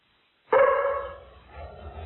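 A dog barking over a radio stream, thin and band-limited like a transmission: a single abrupt bark that trails into a fainter whine or second bark, close and alone.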